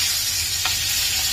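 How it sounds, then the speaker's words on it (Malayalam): Eggplant pieces shallow-fry in hot oil, giving a steady, close hiss of sizzling with a faint soft tap partway through. "നമുക്ക് ഈ വഴുതനങ്ങ ഒന്നൊരു ഷാലോ ഫ്രൈ ചെയ്യാം."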